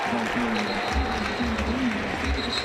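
A college football stadium crowd at a Houston versus Kansas game reacts with a broad rumble of noise and scattered clapping, while commentators talk over it.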